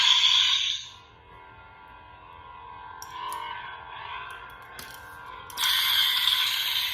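Bright electronic hums and whooshes shift abruptly as a custom lightsaber switches between sound fonts, with brief clicks and a sudden loud return near the end.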